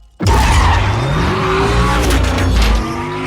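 A racing car speeds close past roadside objects, each passing with a loud rushing whoosh and Doppler pitch sweeps over a heavy engine roar, with no talk.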